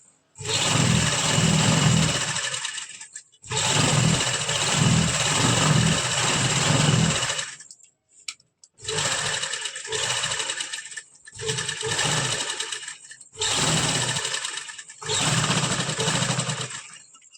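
A sewing machine stitches seams on palazzo pants, running loud and close in long whirring bursts separated by short pauses and without talk.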